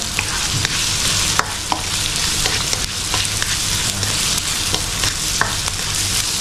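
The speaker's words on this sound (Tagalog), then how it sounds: "Papalambutin na natin yung sibuyas" Onions sautéing in a pan, a loud steady sizzle broken by regular scraping clicks of stirring, close and continuous with no talk.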